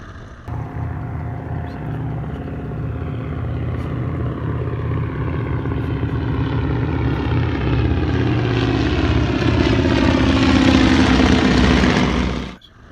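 A Stearman biplane's radial engine and propeller drone loudly and steadily from close range, the pitch gradually rising as the aircraft pitches up to land, then cutting off abruptly.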